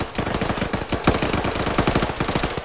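Loud, close bursts of rapid automatic gunfire in a military video game, sustained rattling volleys with a sharper blast near the middle and no speech.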